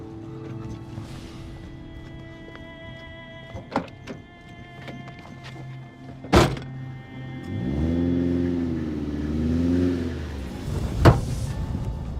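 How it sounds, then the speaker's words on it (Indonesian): A car on a street pulls away: a few dull thunks, then its engine rises and revs steadily for several seconds before a final sharp knock, moderately close with no talking. "Sial, mobil yang barusan tadi itu pasti mobil membawa Saskia"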